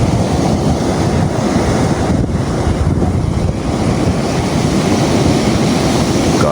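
Strong wind roars over ocean waves in a loud, continuous, blustery rush with buffeting gusts against the microphone and no voices.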